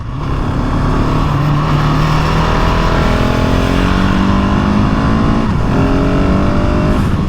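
A GasGas 700 SM single-cylinder supermoto engine while riding, a loud, close, steady drone with gently rising pitch through the gears and a brief dip partway, alongside wind rush.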